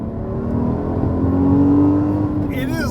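A 2014 Porsche Cayman S engine hums through its PDK gearbox inside the cabin, a steady drone that swells slightly as the revs rise around an automatic downshift blip, with a voice speaking near the end.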